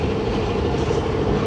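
Inside a moving Tezgam AC sleeper passenger train, travelling from Lahore to Karachi between Nawabshah and Shahdadpur, the wagons give off a steady, loud rumble with a clickety-clack rhythm and no talking.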